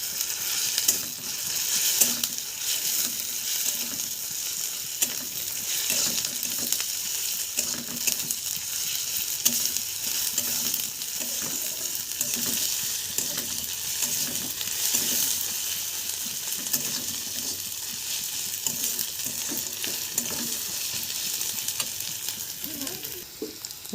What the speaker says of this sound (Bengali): রসুনটাকেও হালকা করে ভেজে নেব।